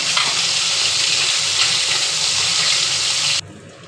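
Loud, steady sizzling of fish frying in hot oil, a continuous crackling hiss that cuts off abruptly near the end.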